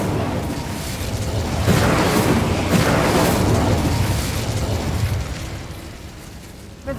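A fiery burst from an Incendio spell in Hogwarts Legacy: a broad roaring whoosh that swells over a couple of seconds, holds as a crackling rumble, then slowly fades out.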